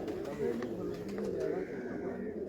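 Racing pigeons keep up a low, rolling coo close at hand while people speak over them, the birds' calls running steadily underneath the voices.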